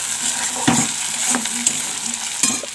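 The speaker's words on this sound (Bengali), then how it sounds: "আর এদিকে আলুটা ভাজা হচ্ছে" Potatoes fry in hot oil with a steady close sizzle, broken by a few brief stirring scrapes of a utensil in the pan.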